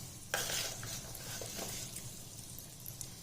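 A teaspoon of fenugreek seeds frying in hot oil with hing and mustard seeds, a soft quiet sizzle after a sharp initial crackle, with light stirring clicks of a spoon.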